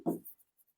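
A single brief stroke of chalk or marker on a classroom board, a short faint scratch followed by tiny taps, close and alone.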